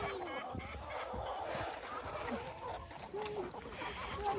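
A farm chicken clucks in short, scattered calls at moderate distance, mixed with rustling and quiet background noise.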